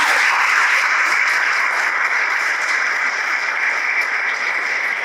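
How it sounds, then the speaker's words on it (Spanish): An audience applauds a professor named Corena at the close of a university event, steady dense clapping that holds evenly throughout with no talk over it. "ahora sí el aplauso para el profe Corena"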